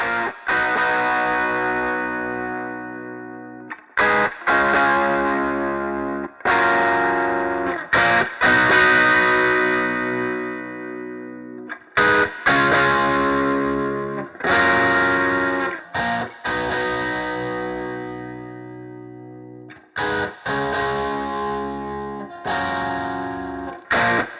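Distorted electric guitar chords ring out in repeated bursts with a roomy, spacious stereo room reverb, recorded with a LEWITT LCT 640 TS microphone, loud and close, with no voices.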